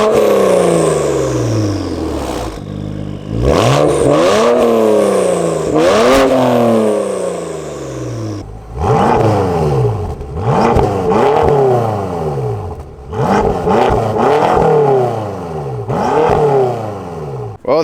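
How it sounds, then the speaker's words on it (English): A BMW E90 335i and an F10 M5 with covered exhaust systems rev repeatedly up close, loud rising and falling exhaust roars in quick bursts between idling. "That's what those two cars sound like with the covered exhaust system."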